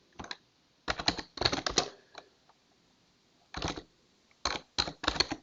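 Requirements being typed on a computer keyboard, crisp close key clicks in quick bursts separated by short pauses, with no talk.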